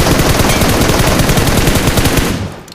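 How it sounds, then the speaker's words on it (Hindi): Rapid automatic gunfire from a bot in a mobile battle royale game, a loud, dense, continuous burst of shots lasting a couple of seconds before cutting off, with no talk over it. "वो गोलियां चला रहा है चूतियों की तरह।"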